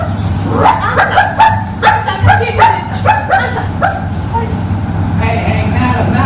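A dog barks in a live radio play staged as The Thin Man, giving a quick run of sharp yips and bow-wows over a steady low hum, with voices nearby.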